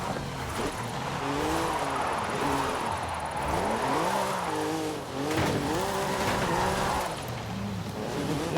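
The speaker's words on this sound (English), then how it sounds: "So don't try to do too much burnouts." Tires squeal through a burnout in the racing game Forza Horizon 5 as an engine revs up and down in wavering swells, loud and continuous, with no voices.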